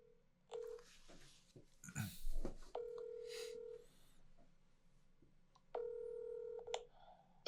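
Telephone keypad tones as a call is placed, a few steady dialing beeps in separate groups with brief soft handling noises between them, fairly quiet.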